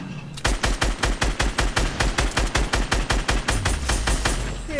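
Dense automatic gunfire in the Fortnite battle royale Blitz mode: rapid, evenly spaced shots hammer out loud and close in one continuous burst lasting nearly five seconds.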